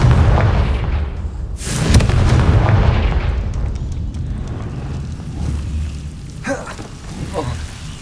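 A Confringo fire spell bursting in Hogwarts Legacy, a loud booming explosion with rumbling roar that trails off over several seconds, followed by fainter crackles and smaller bursts.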